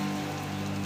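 Steady rain falls in a continuous hiss with a low hum underneath, lasting less than a second with no break.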